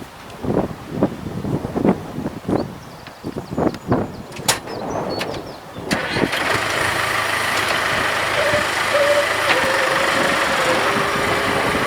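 A tractor engine starts at a hay-mowing field to move the mower to another field. After wind buffeting and handling noises, the engine runs as a steady, continuous drone, close and moderately loud, under outdoor wind.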